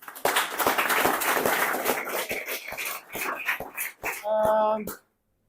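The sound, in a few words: audience clapping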